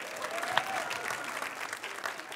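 A studio audience on a talk show claps together in a dense, steady burst of applause, moderately loud and sustained across the short moment.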